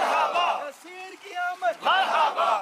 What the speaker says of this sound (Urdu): جلوس میلاد بھی نکالا، جس میں شرکاء سرکار کی آمد مرحبا کے نعرے لگاتے رہے